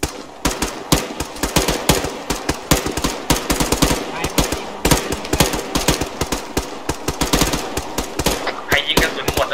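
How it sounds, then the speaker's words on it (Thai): Dense, near-continuous rifle gunfire from several shooters during a moving-and-firing drill in ARMA 3, rapid overlapping shots loud and close with no pauses throughout. "พร้อมแล้วเริ่มยิง"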